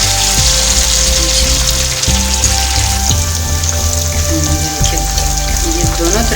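Fish frying in hot oil, a loud, dense, continuous crackle and sizzle close up, steady throughout with a faint hum underneath.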